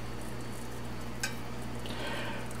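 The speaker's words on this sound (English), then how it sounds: "A little olive oil in a non-stick pan here." Chopped garden greens cooking in olive oil in a non-stick pan, a soft steady sizzle under a constant low hum, with a single sharp utensil click partway through and no talk.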